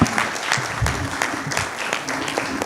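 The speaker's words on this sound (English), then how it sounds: "Please applaud those achievements." Audience applause at an anesthesia care symposium, a steady burst of dense clapping that carries evenly through the short stretch without a break.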